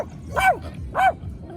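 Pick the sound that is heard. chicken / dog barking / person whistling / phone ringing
dog barking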